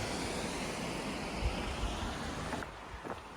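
A waterfall near Tunnel Falls on the Pacific Crest Trail gives off a continuous broadband rush of falling water, steady and enveloping, with some wind buffeting and no talking.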